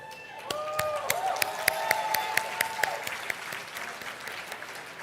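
Applause at a Match Day 2026 ceremony for a medical school class: a crowd claps steadily in a sustained wash, with a few sharp, louder claps standing out at irregular moments as the ovation carries on.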